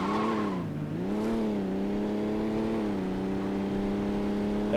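A car engine in Saints Row 2 hums steadily with rising and falling revs, loud and close, alone with no talk.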